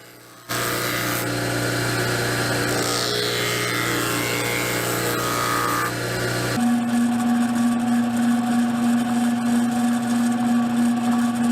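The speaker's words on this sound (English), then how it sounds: "Just even those up on the bench grinder" A bench grinder evening up forged hunting knife parts, a loud steady motor whine with grinding rasp that shifts partway into a lower, more tonal hum as the piece is worked, continuous and close.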